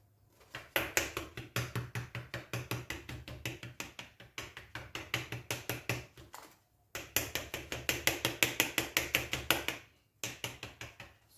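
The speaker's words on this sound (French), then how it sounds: "Donc je vais quand même piquer ma pâte." A fork pricks quiche pastry dough in a dish, giving fast, regular light taps in two long runs with a brief pause between, close and crisp.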